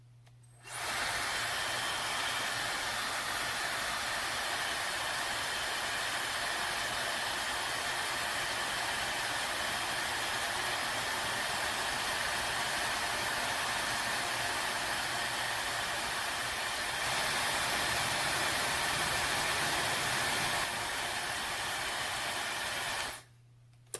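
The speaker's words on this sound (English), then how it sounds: "that was just a quick demonstration of the hairdryer at work" A Laifen Swift hair dryer blows continuously through its cold, warm, hot and cycle settings, giving a steady, loud, high-pitched airflow whoosh with a subtle shift in tone partway through before switching off.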